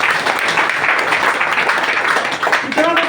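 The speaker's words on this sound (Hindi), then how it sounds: "सर के लिए जोरदार ताली बना दीजिए" An audience claps loudly and steadily at a motivational talk in Doha, Qatar, with a dense burst of applause that continues throughout alongside a host's voice over it.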